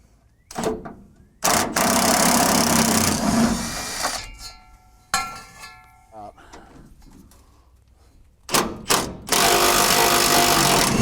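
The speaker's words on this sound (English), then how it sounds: "let's officially pull out these bolts" Bursts of loud, close ratchet or power-tool clatter removing bolts to drop a tank, separated by quieter stretches of clicking and handling noise, with a person speaking between the runs.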